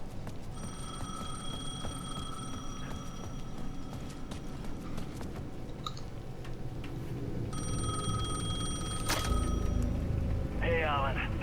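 A telephone rings in the video game Alan Wake 2, a bright repeating electronic bell in two separate bursts over a low rumbling ambience, with a few muffled clunks between rings.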